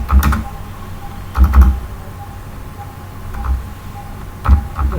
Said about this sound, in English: Just open it and type here